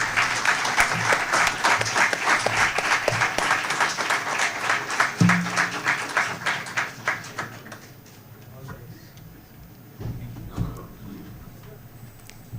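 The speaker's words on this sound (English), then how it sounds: "Can we have a thunderous round of applause" A conference valedictory audience breaks into loud, sustained applause lasting about eight seconds, then dies away into quieter room sound with a few scattered claps and faint voices.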